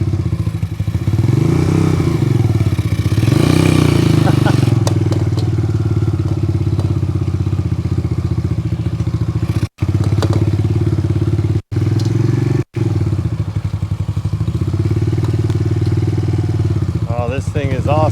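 A 1981 Honda CM200T TwinStar motorcycle putts around a yard, its engine loud and close with a steady throb that rises and falls, brief dropouts, and clatter and thumps over the uneven ground.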